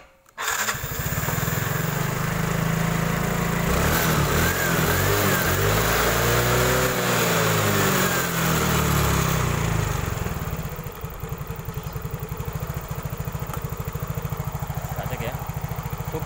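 A Yamaha Mio scooter engine, which has been stalling on the road, fires up and runs close by with a steady buzzing idle and a rise and fall in revs. The note then settles lower and rougher toward the end, with a voice talking over it.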